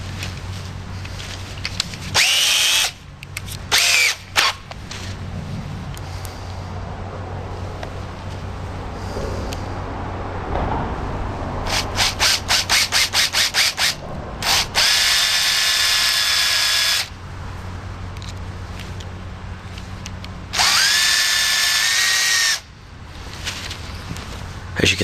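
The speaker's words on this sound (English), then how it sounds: "As you can see, we've drilled through." A power drill bores through a part for a homemade .50 caliber blow gun, whining loudly in long runs broken by pauses, with the motor pitch rising and falling as the bit cuts.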